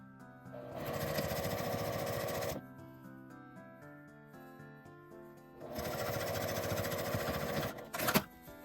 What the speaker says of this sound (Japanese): 返し口を閉じて端を縫います。